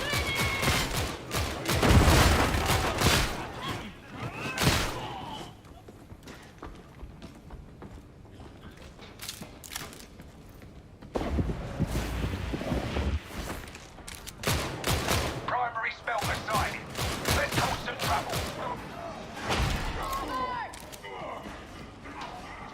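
Gunfire and weapon action in the video game DarkTide, with bursts of repeated shots and mechanical clicks separated by quieter stretches, loud and close throughout.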